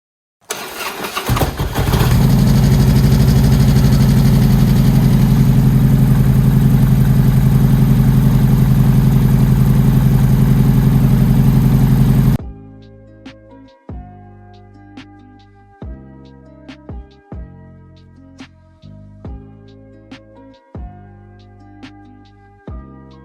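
A Harley-Davidson motorcycle with Bassani exhaust fires up and runs with a loud, deep, steady roar for about twelve seconds, then cuts off. Sharp metallic clicks and knocks follow, close by and spaced out.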